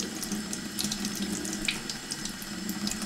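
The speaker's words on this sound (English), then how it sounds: "But then I just get some water on that." Steady close running water from a tap is poured onto a liquid-proof shirt, a continuous splashing hiss lasting the whole moment with no voices.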